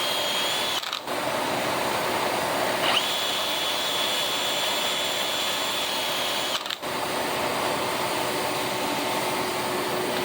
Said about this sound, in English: So I'll typically start drilling as I'm heating it up to free up any of that buildup